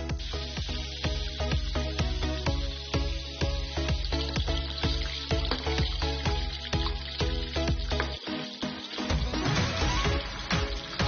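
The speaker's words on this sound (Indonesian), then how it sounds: "Ayam digoreng sampai matang." Chicken for street-food ayam rica rica fries in oil, giving a continuous sizzle that runs steadily beneath rhythmic background music.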